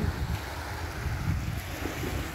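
Rough sea waves surge and wash against a boat at sea, a continuous loud roar mixed with wind buffeting the microphone.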